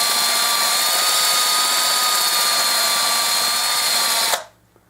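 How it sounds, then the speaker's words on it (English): Rotary tool spinning coarse 80 grit sandpaper inside a coin ring, a loud steady high whine that holds for about four seconds and then cuts off abruptly into near silence. "We're now switching to a real coarse sandpaper, probably about an 80 grit. We're still working on the inside of this ring, trying to get it smoothed up."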